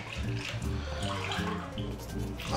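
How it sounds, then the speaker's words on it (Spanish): Water poured into a pot of rice with chicken and vegetables, a steady close splashing gush with a throbbing low rumble that runs the whole stretch without a break. "Voy a echarle agua."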